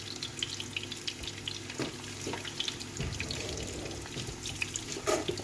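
Pieces of bream and sea bass fry in hot oil, a continuous crackling sizzle with scattered pops and a louder spatter near the end, all without any talking.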